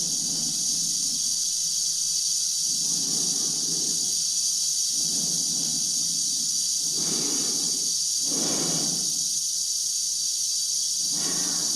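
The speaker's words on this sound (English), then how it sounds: "There's times when all you hear is the oxygen tank and someone breathing." Oxygen tank hiss runs constantly inside a spacesuit in the film 2001: A Space Odyssey, while slow, heavy breathing rises and falls in regular cycles close to the ear.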